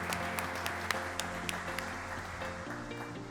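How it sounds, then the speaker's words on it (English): Audience applause at a university instructional lab grand opening, a steady patter of many hands with a few sharp, close claps standing out, while sustained tones and faint murmurs sit underneath. "Let's give you another round of applause."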